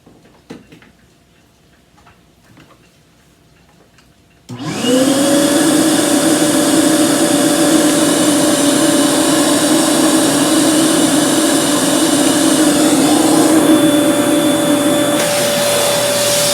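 A Kenmore Elite pet upright vacuum cleaner with a dirt sensor switches on after a few seconds of quiet and runs loudly and steadily close by, its motor whine holding a constant pitch, with no talking.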